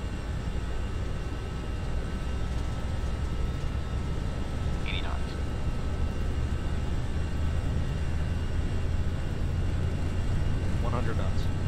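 Airliner engines spooling to takeoff thrust in the FSLabs flight simulator, a steady broadband roar and low rumble filling the whole stretch, with faint cockpit sounds over it.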